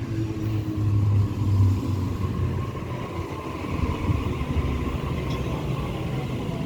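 Passenger train rolling by at Denistone station, a flat spot on the third carriage's wheel adding its rough beat to a steady low rumble that holds loud and close throughout.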